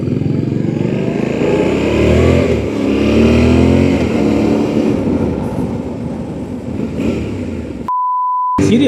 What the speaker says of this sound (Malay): Dia punya RPM naik kejap je.